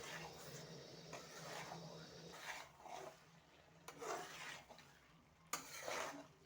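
Spring onion and egg dish cooking in a pan with coriander leaves added, giving a steady low sizzle with intermittent scraping and stirring strokes, close and moderately quiet, with no talk.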